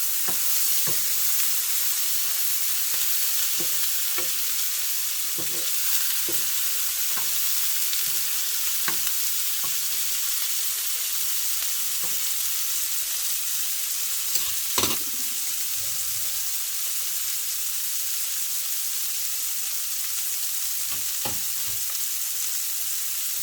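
Meatballs fry in a pan with a loud, constant sizzle, broken by frequent clicks and scrapes of stirring and turning, including one sharper knock midway.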